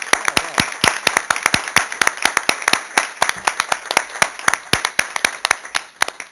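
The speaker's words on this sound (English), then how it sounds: "We'll give you a round of applause." Committee members are applauded at a city council meeting. A smallish group claps in crisp, distinct, fairly loud strokes, the individual claps clearly separable in a quick uneven rhythm that continues steadily throughout.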